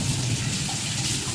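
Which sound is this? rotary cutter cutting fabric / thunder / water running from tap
water running from tap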